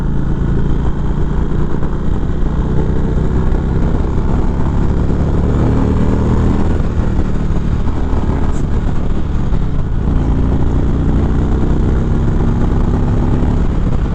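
A 2019 Indian Springfield Dark Horse motorcycle rumbles steadily at speed in fourth gear, its engine drone loud and constant under heavy wind roar from the rider's position, with no pauses.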